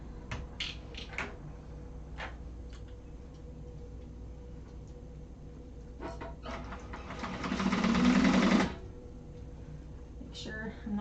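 A sewing machine stitches the box corners of a tote bag in a one-and-a-half-second burst of rapid, near stitching, with quiet clicks and handling around it and a voice nearby.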